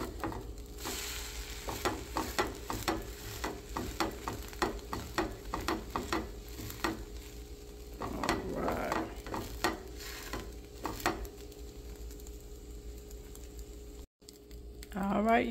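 Thin pancakes sizzle in a hot pan as they crisp at the edges and get pressed flat. A soft, steady fry sits under quick tapping and scraping clicks, with a brief louder rustle midway.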